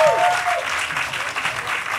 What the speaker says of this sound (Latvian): Aplausi kā minimums kā uz Tayloru Swiftu.